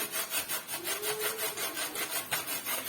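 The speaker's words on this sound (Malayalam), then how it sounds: "നമുക്ക് ദാണ്ട് ഇതുപോലൊരു ഗ്രേറ്റർ വെച്ച് നമുക്കിത് അരിഞ്ഞെടുക്കാം." Beetroot rubbed back and forth over a grater for a Kerala-style pachadi, a steady rhythmic rasping of repeated strokes, close and fairly loud with no talking.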